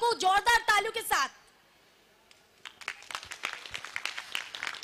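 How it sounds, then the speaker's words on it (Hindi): Crowd applause at a public gathering in Kharkhoda: after someone speaks briefly and a short pause, a steady patter of many hands clapping rises and continues at moderate volume. "तो बिल्कुल जोरदार तालियों के साथ जनता ने अपना स्वागत जो है वो कर लिया है।"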